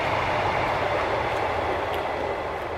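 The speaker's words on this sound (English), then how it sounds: "let's wait for this fucking train to go past" A train passes close by as a loud, steady rumbling roar with faint rhythmic rail clatter throughout.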